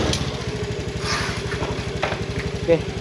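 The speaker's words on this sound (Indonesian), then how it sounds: "kalau di engkol motornya bisa hidup atau bisanya mesin ini bisa hidup ya" A fuel-injected Honda Beat motorcycle idles after a kick start, its engine putting out a steady, rapid, close putter throughout, with brief faint voices over it.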